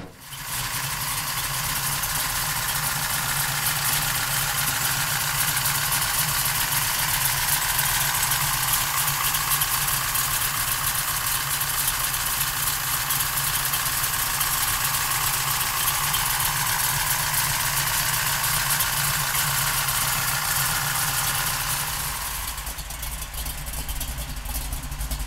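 A nut-and-bolt restored 1968 Chevrolet Camaro idles steadily for over twenty seconds, a continuous close engine rumble with no talk, easing off slightly near the end.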